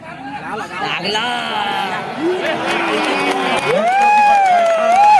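Crowd cheering and clapping at a Maharashtra kabaddi tournament match between Waghjai Kolkewadi Chiplun and Shivaji Uday Pune, a steady loud roar under a commentator's continuous talk.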